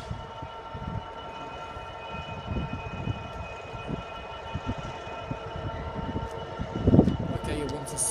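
A freight train rumbles through Peterborough station, a low, fairly faint rolling clatter with a steady hum. A brief louder tone cuts through near the end.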